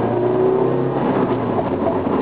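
Nissan Silvia S15 Autech with a naturally aspirated engine, high cams and an aftermarket exhaust manifold, revving loud and close while cornering, a sustained engine drone that climbs and settles over two seconds.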